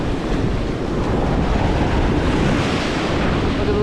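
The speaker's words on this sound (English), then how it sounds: "Waves are coming in, high" Heavy ocean surf rolling in at high tide along the shore of Oak Island, a continuous loud roar of breaking waves with steady wind buffeting the microphone throughout.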